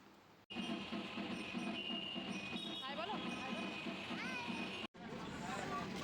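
Steady rumble and rolling noise of a metro train in motion, continuous throughout with brief dropouts, squealing wheel tones rising now and then, and faint voices inside the carriage.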